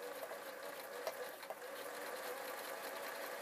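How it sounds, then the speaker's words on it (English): Sewing machine stitching a ribbon stripe onto a fabric mini pumpkin, a steady continuous whirring hum with no pauses, close and fairly quiet throughout. "then place it under the needle and start sewing."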